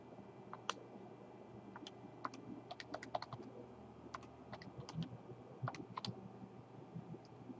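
Fingers tap keys on a calculator keypad entering an inverse tangent calculation, a quick irregular series of sharp, close clicks in small bursts over quiet room noise.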